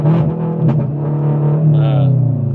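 Subaru BRZ 2023 manual with EcuTek tune holding a steady rev near 4500 RPM on launch control, a loud continuous engine drone close by with a slight rise near the end.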